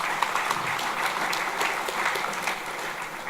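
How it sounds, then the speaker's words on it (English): Audience applause at the 2013 Kennedy Awards ceremony for two young regional journalists, a dense, steady clatter of many hands clapping at moderate volume for a few seconds. "Please, a round of applause for both of them."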